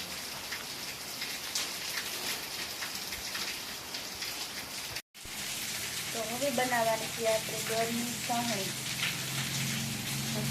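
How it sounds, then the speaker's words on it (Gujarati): Steady rain patters and hisses on a surface throughout, with a brief dropout midway; a voice speaks faintly under the downpour in the second half. "વરસાદ પણ ચાલુ થઈ ગયો છે"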